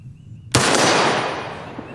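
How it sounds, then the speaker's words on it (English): A single 1 1/8 ounce 12 gauge shotgun slug fired outdoors, one sharp loud blast followed by a long rolling decay. "this is a regular 1 1/8 ounce 12 gauge shotgun slug"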